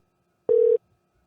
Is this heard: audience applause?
no